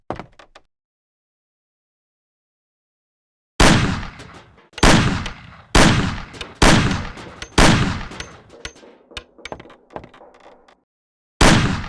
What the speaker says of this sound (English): Shoot the cans off of the table.